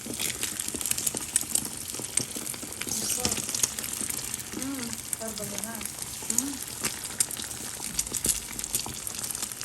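Eggs spit and crackle in hot oil in a pan over a strong gas flame, a dense continuous sizzle with sharp pops throughout and faint voices talking underneath.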